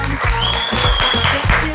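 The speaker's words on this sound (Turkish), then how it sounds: "Ork Dijital'e ayrıca bir teşekkür için bir alkış daha alalım" An audience applauds on cue at the close of a competition show, with sustained clapping under a voice speaking over it.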